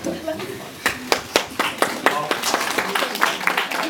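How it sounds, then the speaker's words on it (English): Scattered clapping for a teacher at a high school civics competition: a few hands striking in a loose, uneven rhythm of sharp claps, mixed with voices talking. "Teacher should get applause."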